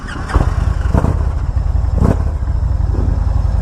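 A 2017 Victory Magnum motorcycle engine starts up and rumbles steadily with a few sharp revs and throttle blips, close and loud, with no talking.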